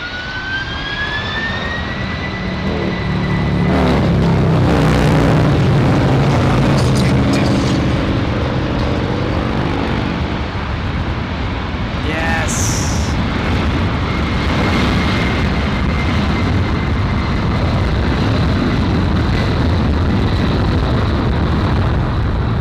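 Jet airliner taking off from LAX bound for JFK, a loud sustained roar that builds and holds with rising whine tones and broadband rumble, close and steady throughout.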